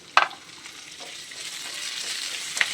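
Coriander and ginger frying in oil for a country chicken curry: a soft continuous sizzle with a sharp spoon clink at the start and another near the end, plus light stirring scrapes in between.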